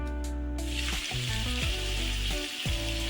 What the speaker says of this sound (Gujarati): હવે આપણે જે ગ્રેવી કરવા માટે ટામેટાં મરચાં અને ડુંગળીને જે આપણે કટ કરેલું છે તેને આપણે સાંતળી લઈશું